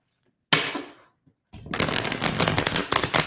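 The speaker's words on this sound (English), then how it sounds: "I feel like I need one more shuffle, Melanie." A deck of tarot cards is shuffled close by: one quick riffle fades out, then after a short pause a longer, louder run of shuffling rustle follows.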